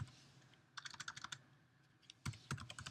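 Fast bursts of typing on a computer keyboard, close and quiet, two short runs of clicking keystrokes separated by a brief pause.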